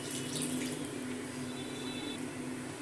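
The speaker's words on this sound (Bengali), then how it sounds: "খোসাগুলো যাতে জলে ভিজে থাকে সেরকম পরিমাণে জল দিয়ে দিই।" Water runs steadily from a tap into a pot of potatoes and ridge gourd peels, a soft continuous splashing fill heard close and alone, with no talk.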